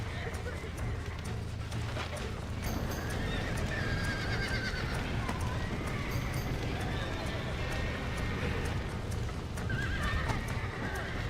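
Horses in the Red Dead Redemption video game neigh and whinny repeatedly over running hoofbeats and a dense game soundscape, with a person talking over the action.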